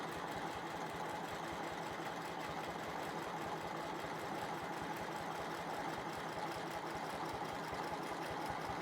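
A sewing machine stitches straight quilting lines across striped fabric, a steady, fast, continuous mechanical whir that runs alone at a constant pace throughout.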